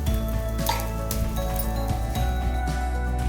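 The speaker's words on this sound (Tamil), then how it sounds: "சுற்றி வர நல்ல எண்ணெய் விட்டுக்கலாம். மேலேயும் நல்ல எண்ணெய் விடணும்." Stuffed paneer paratha frying on a griddle with oil poured around and over it, giving a steady close sizzle with faint clinks of a utensil, no talking.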